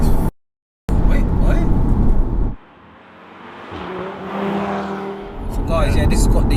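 An APR-tuned Audi RS3 with a 2.5-litre turbo five-cylinder engine drives hard, its engine droning loudly with brief dropouts and a revving rise and fall, under excited voices speaking in the car.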